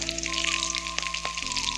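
Steady sizzling of taro frying in hot oil with onion and spices, close and continuous, with a faint tonal hum underneath.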